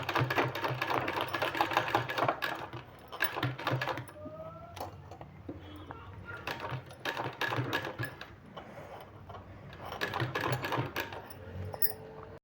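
Sewing machine stitching a sleeve, running in several rapid rattling bursts separated by short pauses, moderately quiet and close with no talking.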